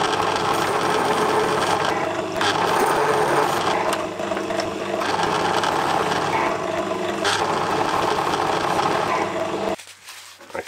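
Boring a hole through a small brass-and-steel part for a Stuart 10V model steam engine on a lathe, a steady broadband machining drone with a light rhythmic chatter, loud and continuous, stopping abruptly near the end.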